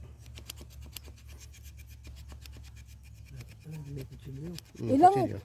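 Light, rapid scratching strokes as the bark is scraped off a small pomelo branch to prepare it for marcotting, quiet and close, with a voice speaking briefly near the end.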